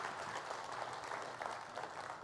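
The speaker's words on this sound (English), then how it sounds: "let's have a big round of applause for Jeff Peters" Audience aboard a P&O ship applauds to welcome a speaker, a steady, fairly faint wash of clapping that holds evenly throughout with no talk over it.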